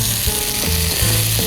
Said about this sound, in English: This time right in the pan, we're gonna add our prawns.